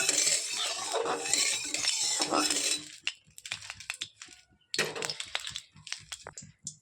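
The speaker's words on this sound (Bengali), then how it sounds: "খুন্তি দিয়ে তেলটা চারিদিকে, কড়াইয়ের চারিদিকে ভালো করে ছড়িয়ে নিতে হবে।" A metal spatula scrapes oil around a kadai (wok) while sesame fritters are prepared. Loud, continuous scraping gives way to short, scattered clinks and scrapes with pauses between them.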